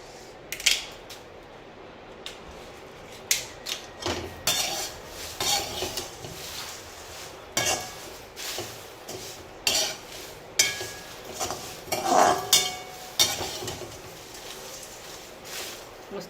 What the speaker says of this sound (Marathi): हे पण बारीक गॅसवर भाजायचं आहे